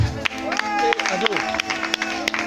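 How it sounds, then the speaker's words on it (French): Crowd applause at a live coupé-décalé show at Angré Plage, with clapping and cheering running under a loud voice talking over music throughout. "Ça s'applaudit, ça s'applaudit."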